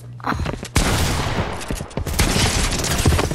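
Dense gunfire from a heavy pump shotgun and a submachine gun in the Fortnite video game, with sharp rapid bursts packed together, loud and continuous, with no voices over it.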